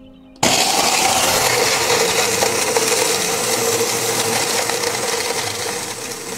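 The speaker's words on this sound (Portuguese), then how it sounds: "eu não consigo filmar o tijolo sendo triturado" A powerful shredder machine grinds up a whole brick, a loud, dense crushing roar that bursts in abruptly after a brief quiet start and keeps up steadily, with rattling debris throughout.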